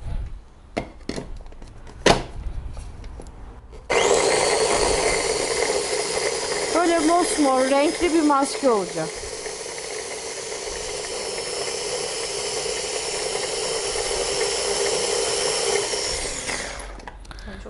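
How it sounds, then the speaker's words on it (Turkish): A blender whirs loudly and steadily for several seconds, with a voice talking briefly over it and clattering just before it starts. "Hemen yine bir robota koyup"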